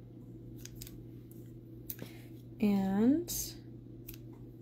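Scissors snip the ends of a plaid ribbon bow during a card-making craft, a brief crisp cut heard close, with a short spoken word and quiet room tone around it.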